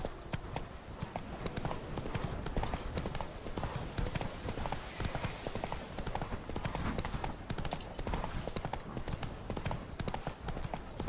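Roach the horse's hooves in Witcher 3: Blood and Wine, a steady, loud clip-clop of a galloping gait running continuously throughout under a dense game soundscape.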